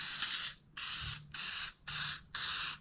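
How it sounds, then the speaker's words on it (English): An aerosol can of adhesive sprays in five quick, even hissing bursts, each about half a second long with short pauses between, close and clear. "Now I'll spray another section with the adhesive"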